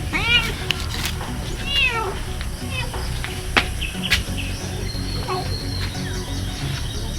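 A cat meows repeatedly near a seaside spot in the Philippines where squid is being cooked, giving several rising-and-falling mews over a constant noisy background with chirping birds and faint voices.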